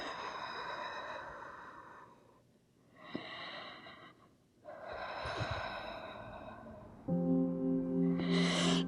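Slow deep breaths drawn and released during a yoga backbend pose, several long audible inhales and exhales with short pauses between them, close and fairly soft, ending in a louder breathy stretch.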